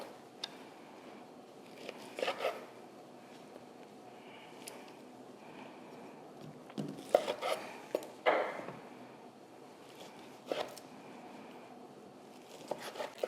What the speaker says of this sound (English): so I like to cube up this sausage.